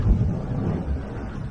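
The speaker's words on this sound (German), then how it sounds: "Sehr windig ist das hier." Strong wind buffets the microphone in a steady low rumble that roars without a break on Harriersand island in the Weser river, with no one talking.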